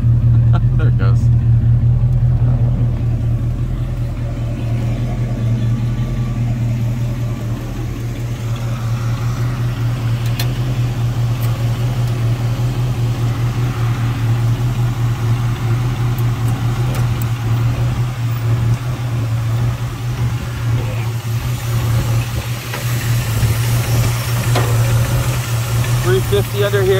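A 1940 Ford Deluxe 5-window coupe with a 350 engine and MSD ignition idling: a steady, loud, low rumbling idle with a slight lope, holding throughout, with people talking over it at times.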